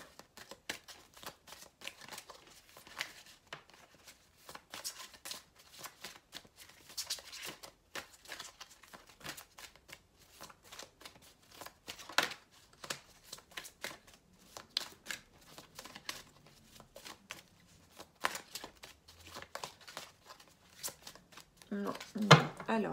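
Playing cards shuffled and flicked at a table, a faint, continuous stream of soft riffling and snapping under a French-speaking voice, with a louder rustle right at the end.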